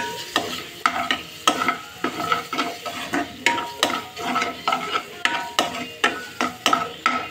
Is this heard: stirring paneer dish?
yes